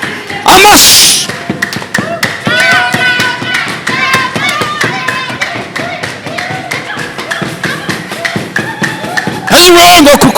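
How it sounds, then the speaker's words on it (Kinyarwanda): A church congregation breaks into rhythmic applause, a dense run of sharp claps that carries on steadily beneath singing and talk and ends with a loud burst. "Amashyi."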